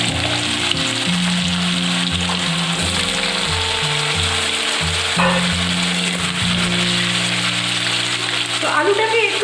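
Potato pieces fry in hot oil tempered with whole cumin, bay leaf and a dried red chilli, giving a steady close sizzle with occasional stirring clinks, and no talk over it.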